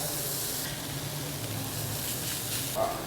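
Sisig sizzling on a very hot metal plate with onions, a steady broadband hiss and crackle that stays constant and close throughout, with no talk over it.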